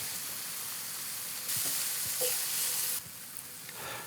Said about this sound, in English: we're going to let it cook until the apples start to soften